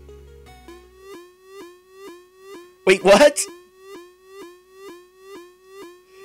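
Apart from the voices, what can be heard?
ambulance siren in a video game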